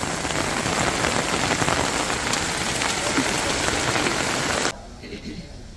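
Heavy rain pours steadily onto a surface in a loud, dense hiss that drops abruptly to a quieter patter near the end.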